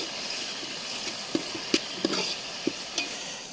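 Onion and tomato fry in a pan for a traditional chicken curry cooked outdoors, with a continuous soft sizzle broken by five or six sharp scraping stirs of a spoon at uneven intervals.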